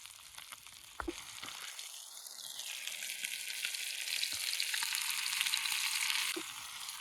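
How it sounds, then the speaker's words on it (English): Steaks searing in a pan over an outdoor campfire, a broad, steady hissing sizzle that grows slightly louder, with a few sharp clicks of a utensil against the pan. "I like my steak about medium. So we're just gonna let these guys cook here."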